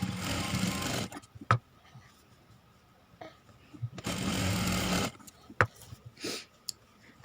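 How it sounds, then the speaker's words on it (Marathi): A sewing machine stitches tucks into blouse main fabric in two sustained runs of steady mechanical whirring, with soft clicks, handling knocks and fabric rustles during the quieter pauses between them. "हे मेन फॅब्रिकवरती ठेवून आपल्याला हे टक्स मारून घ्यायचे आहेत"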